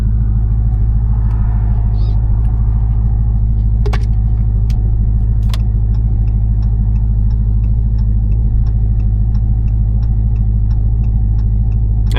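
A twin-turbo 5.7-litre Dodge Charger on the move gives a loud, steady, deep engine drone and rumble that holds constant throughout, with a couple of faint clicks and no talking.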